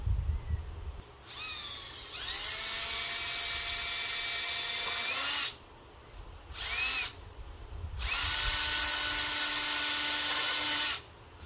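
Cordless power drill driving screws into wooden chicken coop framing, two long whirring bursts with pitch rising as each screw seats and a brief blip between, close-up with no talking.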